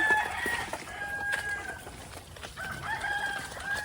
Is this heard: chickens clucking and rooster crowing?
yes